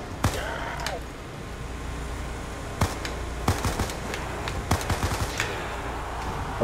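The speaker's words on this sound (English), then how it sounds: "I'm just going to buy the MP5, though. Get a couple headshots." MP5 submachine gun fire in Call of Duty's Mob of the Dead zombies mode, with sharp bursts and single shots over a constant game soundscape, loud and close.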